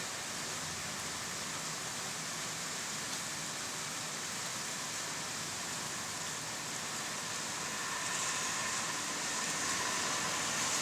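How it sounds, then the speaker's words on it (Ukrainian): Steady hiss of light rain falling on surfaces as a downpour ends, a broad even wash that holds constant throughout with no voices. "Дощ майже закінчився."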